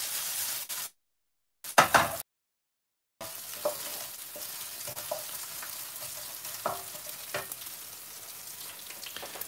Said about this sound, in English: finely chopped onion, and now some ginger garlic paste in the pan. We're going to cook that off.